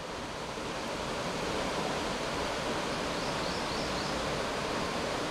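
Water rushes steadily at June Lake near Mt. St. Helens, a dense, unbroken broadband roar like a waterfall or fast stream, loud and close throughout.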